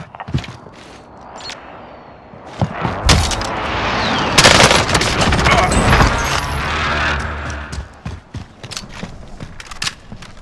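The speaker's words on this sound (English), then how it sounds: "He missed a lot of shots." Gunfire in Call of Duty: Modern Warfare, with bursts of sharp shots and a heavier volley in the middle, loud and close against game effects and chatter.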